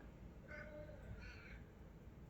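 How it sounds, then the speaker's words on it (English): A cat meows twice at moderate distance, short high-pitched calls over a steady background hum, with no talking. "Can you hear my cat?"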